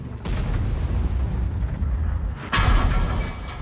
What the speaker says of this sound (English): And that was artillery.